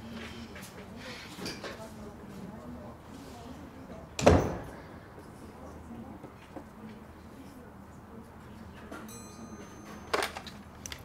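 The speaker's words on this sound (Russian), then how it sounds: "И дверь за собой закрой." An indoor office door shuts with one firm thud midway, followed later by a softer knock or latch sound, over quiet room tone and faint background voices.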